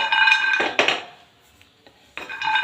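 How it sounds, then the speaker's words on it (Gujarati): Whole cashews dry-roasted in a pan without oil or ghee rattle and clatter against the metal in two bursts, separated by a quieter gap with a couple of small clicks, close and sharp, with no voices. "શેકતી તેલ ઘી કશું ઉપયોગ નથી કર્યો ખાલી એમને એમ જ શેકવાના છે"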